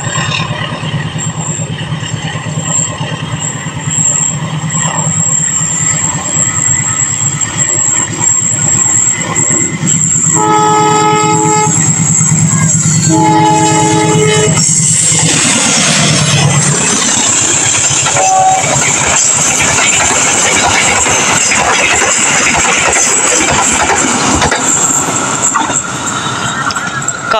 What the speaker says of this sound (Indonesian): Kereta api Pasundan bersiap melintas langsung di jalur 2 stasiun